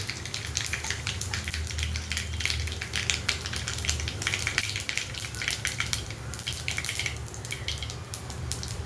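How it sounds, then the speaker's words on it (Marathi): Cumin and mustard seeds sizzling in hot oil for a moong dal and onion dish, a dense crackle of tiny pops over a steady frying hiss, continuous and fairly close. "आता जिरे आणि मोहरी टाकून घेऊया."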